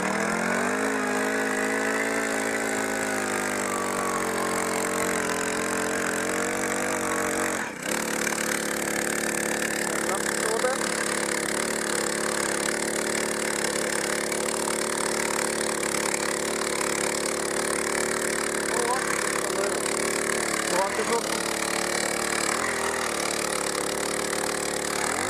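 An engine-powered drill bores a hole for a wood dock, running in a continuous loud mechanical drone that shifts pitch briefly near the start and then holds steady under a broadband hiss.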